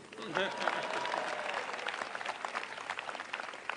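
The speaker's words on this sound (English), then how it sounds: "That's worth applause, too." Audience applause at a White House event with the President of Kenya and Joe Biden in Washington DC, a steady dense wash of clapping rising quickly and sustained throughout, fairly distant and even, with no talking over it.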